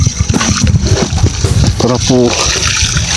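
Fresh water sprinkled over garden celery plants after fertilizing, a splashy spattering hiss in uneven bursts, with someone talking over it throughout.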